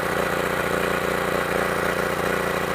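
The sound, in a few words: 4K generator engine running on biogas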